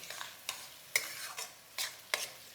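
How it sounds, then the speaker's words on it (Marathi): Finely chopped onion sautéing over a high gas flame gives a soft sizzle under repeated spoon scrapes and stirs in the pan, about five strokes across the stretch, with no voices. "आता यामध्ये घालायचा आहे बारीक चिरलेला कांदा गॅस मोठाच ठेवूयात आणि कांदा थोडा वेळ परतून घेऊ"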